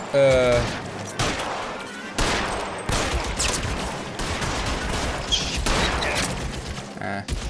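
Gunfire in L.A. Noire: a rapid exchange of loud, sharp shots, some in quick bursts and others spaced apart, over a few seconds of gunfight, with someone talking over part of it.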